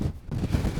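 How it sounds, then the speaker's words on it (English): Strong gale-force wind buffeting the microphone on a Lake District fell summit, a dense low rumble and roar that barely lets up. "I have to excuse the wind because it's blowing a gale up here."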